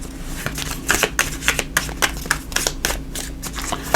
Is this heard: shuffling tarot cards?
yes